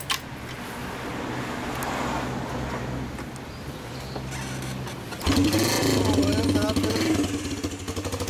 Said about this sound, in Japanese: エンジン音聞かせてもらえますか？